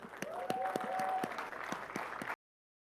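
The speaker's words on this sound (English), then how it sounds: "Give a round of applause for Ernest Toney, the founder of BIPOC Can." Applause from a panel audience welcoming a panelist, a modest crowd clapping with distinct separate claps and a brief whistle-like tone, then cutting off abruptly before the end.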